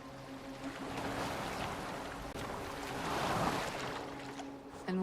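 A boat moves across open water in Assassin's Creed Valhalla, with a continuous wash of waves and wind against the hull at moderate level, and a faint tonal hum underneath; a short rising swell comes at the end.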